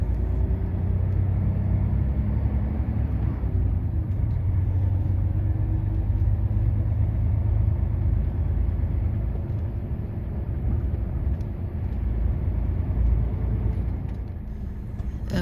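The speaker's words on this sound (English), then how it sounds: "Oh, there's a car coming." A car approaches along a narrow country lane lined with hedgerows, its low engine rumble steady and close while another vehicle's engine idles nearby.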